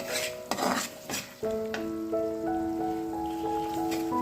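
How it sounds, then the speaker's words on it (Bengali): Fried chicken and potato going into spice masala in a pan, a few loud stirring scrapes and sizzle bursts at first, then a softer sizzle under a sustained ringing metallic tone, close by, no voices. "এখন এই চিকেনগুলো আমি এই যে মশলার মধ্যে দিয়ে দিচ্ছি"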